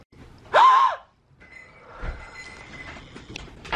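A single sharp, high gasp near the start, followed by quiet rustling and faint background noise.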